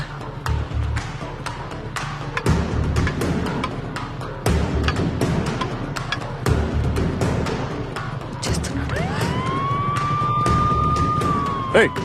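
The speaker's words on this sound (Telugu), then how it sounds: "అంబులెన్స్ కి దారి ఇవ్వండి వచ్చింది" An ambulance siren rises into a wailing tone on a road during lockdown, arriving late after a stretch of clattering street noise with people talking nearby.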